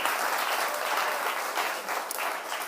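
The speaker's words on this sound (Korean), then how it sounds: "한 박수 여기서 한번." Brief burst of steady audience applause at a lecture, dense and even with no voices, fairly distant and moderately quiet.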